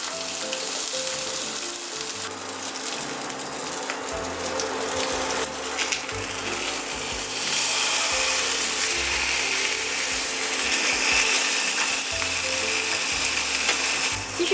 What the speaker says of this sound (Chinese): 现在我们把鱼皮朝下放进去锅里面煎。